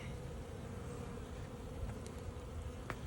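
Honeybees buzz around a newly installed hive, a steady close droning hum of many insects with occasional louder passes near the listener.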